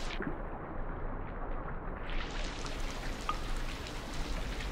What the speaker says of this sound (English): Shit, rain's coming!